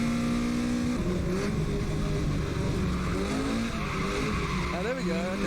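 Drifting cars' engines rev and whine while tires squeal in rising and falling sweeps, steady and fairly loud throughout.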